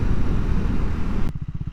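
A Triumph Scrambler 400 X motorcycle is ridden on a cold day, its engine droning loud and close under wind rush before dropping to a steady throbbing idle-like pulse, with no talking.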